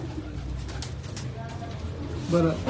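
Kasuri pigeons on a Karachi rooftop after rain coo softly, with a clearer burst of calls near the end, over background noise and voices talking.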